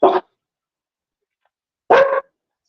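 A dog barks twice, loud and close, with a long silent gap between the two barks.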